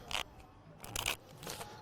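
Playing cards riffled and shuffled by hand in a few quick bursts, close and crisp, with short pauses between the rustling passes.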